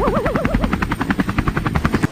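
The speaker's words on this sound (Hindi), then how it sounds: "पहली दफा हेलीकॉप्टर देखा" A helicopter's rotor chops in a loud, steady rhythmic beat close by, with a whining tone wavering over it early on.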